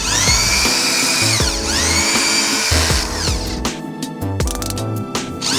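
A cordless drill with a brush attachment whirs loudly during dry cleaning of a car's interior, a close continuous motor whine that shifts pitch as the speed changes, breaking into choppier bursts near the end.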